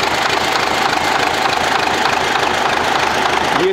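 An MTZ-80 tractor engine idles steadily at close range, a continuous even rumble with a faint rhythmic knock and no talking over it.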